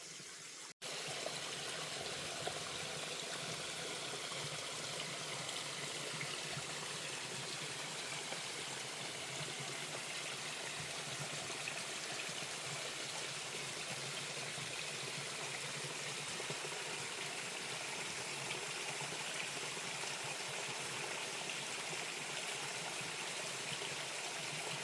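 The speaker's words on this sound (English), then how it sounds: "the water is flowing pretty fast and it's pretty loud" A waterfall at a favorite spot on a rural property pours fast and loud, making a steady, dense rush of flowing water that fills the whole stretch without a break.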